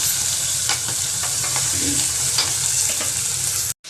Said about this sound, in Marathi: मी वटाणा आणि जिरे टाकलेले आहेत कारण वटाणे पण आपले व्यवस्थित भाजले पाहिजे तेलामध्ये